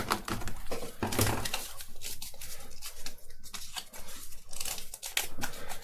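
Scissors snipping through cardboard on a handmade Darth Vader helmet, a close run of irregular crisp cuts and rustles, with no voices.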